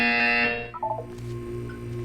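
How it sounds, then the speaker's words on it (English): A loud electronic buzzer from the Portal 2 wellness exercise sounds for about half a second and cuts off, followed by a brief tonal electronic blip and low ambient game hum. "You will hear a buzzer."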